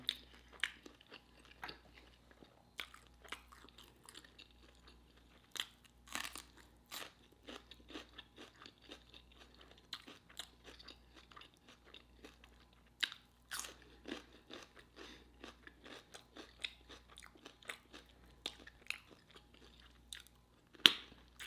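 Crunchy Popeyes Sweet N Smokey Chipotle chicken wings being eaten up close at home, with repeated crisp bites and crackly chewing in an irregular rhythm over a quiet low hum.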